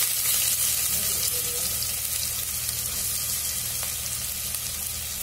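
Chopped onions frying in hot oil with popped whole spices over a low flame, a dense, continuous close-up sizzle with faint stirring scrapes and no voices.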